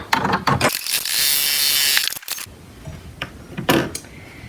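Embroidery sewing machine with a 4x4 hoop stitching a face mask design, a close mechanical whir with rapid rattling needle action, a sustained run in the middle and scattered clicks and clunks around it, no talk.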